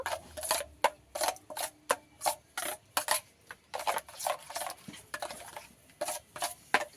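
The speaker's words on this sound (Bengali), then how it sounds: "সুজিটাকে একটু মিশিয়ে নেব।" Semolina being mixed in a pot, a spoon or spatula scraping and clinking against the metal in a quick, steady rhythm of repeated strokes, close and fairly loud, with no talking.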